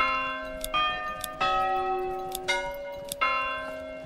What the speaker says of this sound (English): Church bell sound.